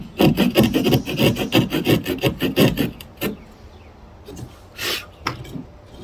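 A hand saw cuts a notch in a piece of wood for a bow drill fire set, giving a quick run of rhythmic rasping strokes up close, then a few scattered scrapes after a pause.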